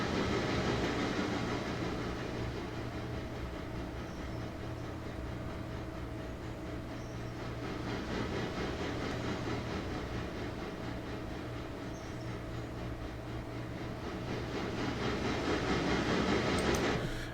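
Train departing in the railway simulation game Railroader, a steady rumbling engine drone with faint clanking and hiss, swelling slightly toward the end, with no talk over it.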